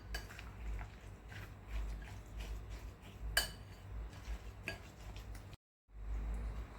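Pumpkin puri mixture being stirred with jaggery in a pot, giving repeated soft scraping and clinking of a spoon against the vessel at close range, with a brief break near the end.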